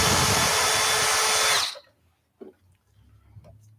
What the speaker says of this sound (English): So I'm just going to remove these 4 screws from the top back panel